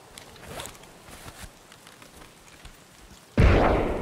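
A grenade explodes in Escape From Tarkov, a sudden loud close blast with a rumbling tail that follows a stretch of quiet, faint footsteps and movement.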